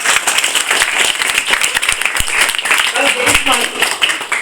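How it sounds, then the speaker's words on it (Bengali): Students at a model school event clap for a classmate named Jyotishman, a brisk, crowded round of applause with voices mixed in underneath. "জ্যোতিষমানের জন্য একটা হাত তালি দাও।"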